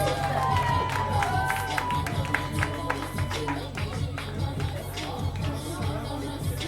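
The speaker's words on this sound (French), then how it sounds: "Merci d'applaudir aussi les arbitres pour cette compétition" An audience at a women's arm wrestling competition applauds the referees, a steady spread of clapping from a crowd in a large hall with a murmur of voices and some cheering.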